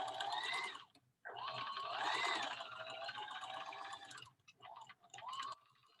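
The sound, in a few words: sewing machine zigzag stitching over a seam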